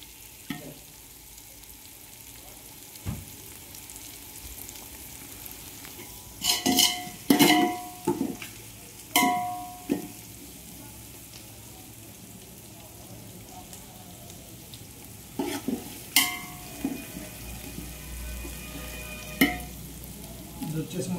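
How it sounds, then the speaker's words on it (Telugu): Onions frying for a Muslim-style biryani sizzle steadily in a pan, with repeated clattering stirs and scrapes of a spoon in bursts, close and fairly loud. "ఉల్లిపాయలు ఇంకొంచెం వేగాలి ఫ్రెండ్స్."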